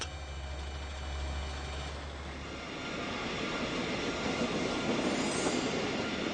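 Fergus the traction engine arriving at the smelters, a low rumbling mechanical drone with a heavy hum at first that gives way to a broader steady rolling noise, fairly close and without talk.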